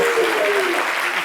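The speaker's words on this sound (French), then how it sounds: "On applaudit pour Baby Philippe." An audience claps steadily through a live applause-meter vote between performers on a midday show, with a dense, even wash of clapping that holds at a constant level from start to finish.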